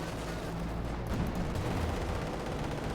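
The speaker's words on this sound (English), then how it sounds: "Another hit from the T-54 on the Panzer IV" A T-54 tank cannon strikes a Panzer IV amid Company of Heroes 2 battle noise: a dense, steady wash of gunfire and rumbling explosions, loud throughout, with a heavier burst of impact about a third of the way in and no voices.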